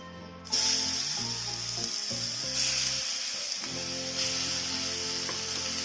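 Curry leaves and a pinch of asafoetida hit hot oil in a frying pan for a bottle gourd raita, bursting into a loud, steady sizzle that hisses on continuously while a low tonal background hums underneath.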